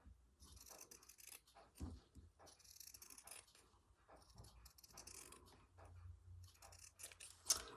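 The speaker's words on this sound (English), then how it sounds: "These are my paper scissors, but they seem to be better than my fabric scissors at the moment" Quiet, close snips of paper scissors cutting through vintage fabric repeat in irregular bursts, with soft rustling between cuts and no voices.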